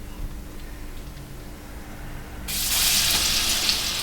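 Fish goes into a hot wok for heart-friendly fish and chips: a quiet low hum gives way to a sudden, steady broadband sizzle of oil frying that holds close and even to the end.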